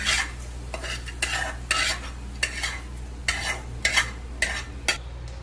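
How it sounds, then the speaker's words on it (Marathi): A spoon or spatula repeatedly scrapes through ingredients dry-roasting in a small amount of oil, giving around nine evenly spaced, close scratchy strokes with a faint sizzle, over a low background hum and without any voices. "बघा अशा प्रकारे भाजून घ्यायचे"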